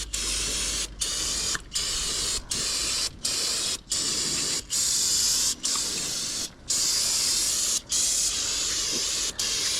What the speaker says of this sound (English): the idea is let's get things kind of soaking with brake parts cleaner